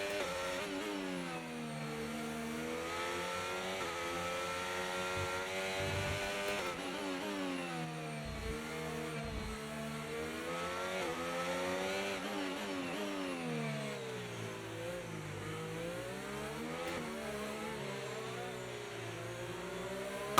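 An F1 race car in a video game drives a rainy Monaco circuit, its engine whining steadily and rising and falling in pitch through gear changes, with a continuous hiss of rain spray underneath and no talking.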